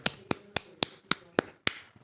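Hand clapping at a wedding during the garland exchange: seven crisp, evenly spaced claps at a brisk steady pace, fairly close and clear against a quiet background.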